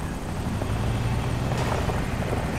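Helicopter rotor drone in GTA 5, a steady loud low-frequency thrum with constant level throughout and no voices.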